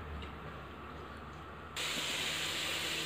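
Ginger-garlic paste hits hot oil for chicken egg fried rice, a loud, steady broadband sizzle that bursts in suddenly partway through after a quieter kitchen hum.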